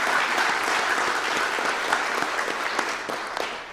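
A banquet audience gives honorees a sustained round of applause. The dense, even clapping fills the room and tapers slightly at the end.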